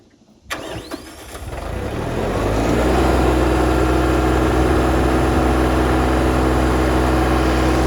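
A riding lawn mower engine cranks briefly, catches and settles into a loud, steady close-up idle that continues alone.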